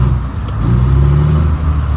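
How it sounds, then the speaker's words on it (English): A 2007 Mack MR688S roll-on roll-off truck's diesel engine revving while parked in neutral, a deep, loud rumble that swells and rises in pitch, then eases back, with no voices. "Let me rev it up."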